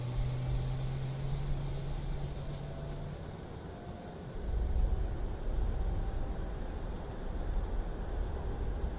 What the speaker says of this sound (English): Sounds like we have a really good start of the APU.